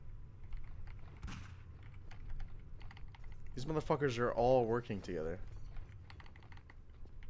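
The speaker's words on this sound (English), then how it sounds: "Are you typing something?" Computer keyboard typing during a Gmod Murder game session, faint scattered key clicks throughout, briefly covered by a person speaking in the middle.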